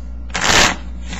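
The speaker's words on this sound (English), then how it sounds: "One quick shuffle." A deck of playing cards gets one quick riffle shuffle, a short loud burst of fluttering card noise lasting under half a second against a quiet room hum.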